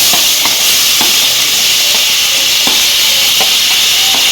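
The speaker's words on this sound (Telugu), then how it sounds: "ఎండి చేపలు కూర వండుకోవాలంటే ఉల్లిపాయలు వేస్తున్నాను చూడండి" Onions fry for a dried fish curry in a pan, with a loud, steady sizzle and hiss filling the space and occasional soft knocks of a spoon stirring.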